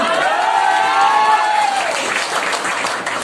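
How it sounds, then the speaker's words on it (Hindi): An audience claps together at the Ideal Eyes anniversary party, close and fairly loud, with a voice heard briefly over the start of the applause. "एक बार ताली बजा दीजिए"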